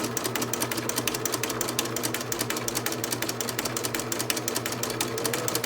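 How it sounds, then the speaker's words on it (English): A sewing machine runs steadily, stitching a zigzag stitch along the unfinished edge of a garment seam allowance. Its needle beats form a rapid, even mechanical rhythm that continues close up and unbroken, with no talk. "the machine, and it will be stitching my zigzag stitch"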